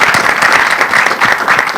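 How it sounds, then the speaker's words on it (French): A studio audience claps loudly and continuously for a short burst, a dense wash of many hands close to the microphone, with no voices over it. "ça mérite quand même des acclamations, non?"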